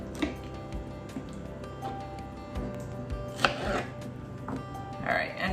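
A knife quarters fresh tomatoes for roasting on a cutting board, with a series of irregular close chops and taps over faint kitchen background.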